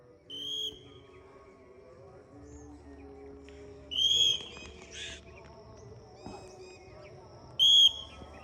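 Bright whistles ring out in short bursts at the start, middle and end, over a murmur of low background voices and faint steady hum.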